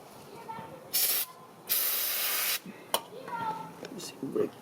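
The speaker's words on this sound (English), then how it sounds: "Using brake cleaner." Brake cleaner sprayed onto engine parts of a 2003 Infiniti FX35 during an oil filter housing gasket job, two bursts of loud aerosol hiss, one short and one longer, followed by a brief third spritz, with low voices around.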